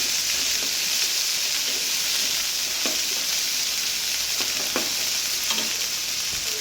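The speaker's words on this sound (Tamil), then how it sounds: "இஞ்சி பூண்டு பேஸ்ட்டு, போட்டு நல்லா வதக்குங்க" Ginger garlic paste sizzles and fries steadily in a hot pan, a continuous close crackling hiss with occasional sharper pops and stirring scrapes, no voices over it.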